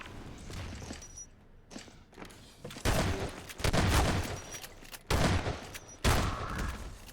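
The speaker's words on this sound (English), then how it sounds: "Gonna decide to spam that room with a grenade anyway." A grenade lobbed into a room during a Half-Life 2: Deathmatch match bursts amid repeated loud gunfire-like blasts and thuds, several sharp impacts spaced across the moment, close and punchy with no voices.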